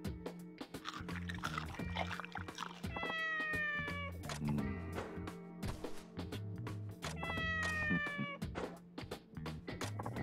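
A hungry cat in Like a Dragon: Ishin! meows repeatedly, with long, drawn-out pleading cries over game music. The cries come in clusters and are fairly loud against a soft overall level.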